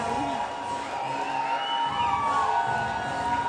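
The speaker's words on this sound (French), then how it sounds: "Là, on entend la foule scander le nom de Sébastien présentement" Boxing crowd chants Sébastien's name in a packed arena, a dense roar of many voices with rising and falling shouted calls, loud and sustained.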